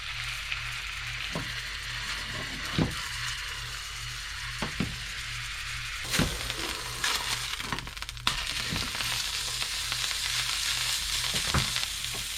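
A deer burger patty fries in extra virgin olive oil, giving a steady, close sizzle throughout with occasional sharp clinks and scrapes from the pan and utensils.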